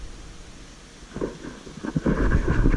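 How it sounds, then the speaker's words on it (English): Rain coming down outdoors beside a parked diesel car and truck, a broadband wash that builds from soft to heavier patter over a few seconds, with gusty rumble and no talking. "Oh, it's really raining now."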